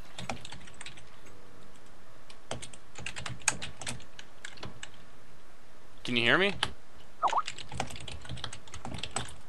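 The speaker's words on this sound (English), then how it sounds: "I can hear you typing." Rapid computer keyboard typing clicks through an online game voice chat, steady and close, with a person speaking briefly partway through.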